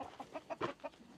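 A rescued chicken gives a quick run of five or six short, close clucks in a quiet setting.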